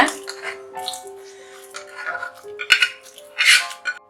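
Ridge gourd kootu being moved into another vessel: a ladle clanks and scrapes against metal pots in a few close, uneven knocks, with a steady background hum and no talk.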